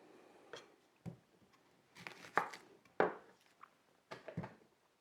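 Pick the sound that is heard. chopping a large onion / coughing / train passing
chopping a large onion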